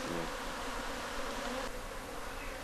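A honeybee swarm crawls into a hive during a transfer in Ghana, its steady dense buzzing filling the short stretch with constant close-up droning and no break in intensity.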